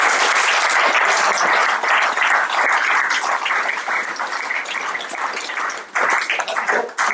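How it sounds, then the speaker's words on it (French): A church congregation applauds together, a dense, steady wash of clapping that runs loud and unbroken, dipping briefly near the end before swelling again. "Acclamons pour le Seigneur."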